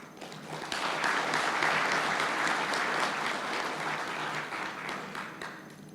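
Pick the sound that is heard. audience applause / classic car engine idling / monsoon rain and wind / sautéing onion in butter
audience applause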